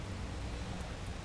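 Steady rain falls outside, a dense even hiss with no distinct drops standing out, continuous and fairly loud throughout the short stretch.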